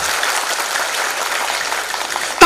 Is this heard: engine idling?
no